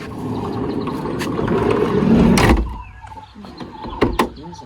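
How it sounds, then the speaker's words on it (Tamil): A van's sliding door is eased shut slowly, a long low mechanical rumble and slide ending in a soft latch thud, followed by small clicks and rattles close by. "கதவை வந்து மெதுவாக சாத்துவோணுமே சாத்து"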